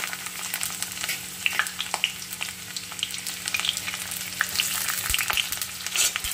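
Chopped onion frying in hot oil for a pabda fish curry, a steady close sizzle with crackling pops and occasional stirring scrapes, no one talking.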